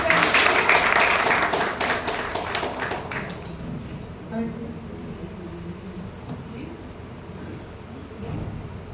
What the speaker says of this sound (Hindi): जोरदार ताली बजाएंगे प्लीज।